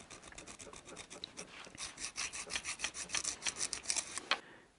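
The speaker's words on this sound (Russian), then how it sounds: "просунул пилочку. Вот так чистим" A nail file rasps back and forth between car windshield wiper relay contacts, a rapid run of close, dry scraping strokes that steadily grow louder, with no talking.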